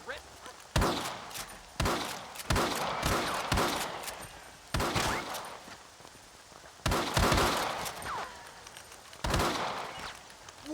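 A gunfire shootout in the video game Red Dead Redemption, with sharp, loud volleys of shots arriving in clusters and short pauses between them, some echoing off into the distance.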